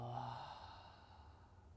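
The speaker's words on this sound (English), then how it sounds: "Long exhale." A long, soft breath is let out during a gentle yoga and meditation session, a faint, airy exhale that fades slowly, alone and without speech.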